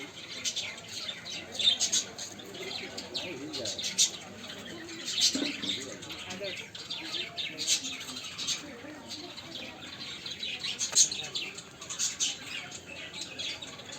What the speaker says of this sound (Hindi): बजरीगार पक्षी।